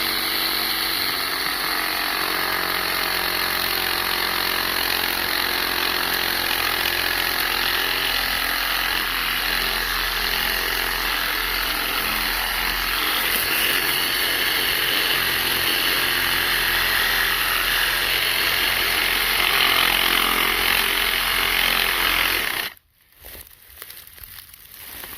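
A Milwaukee M12 Fuel brushless hacksaw cuts through a solid metal bar, a loud, steady reciprocating whine lasting over twenty seconds before it abruptly stops and faint handling noises follow.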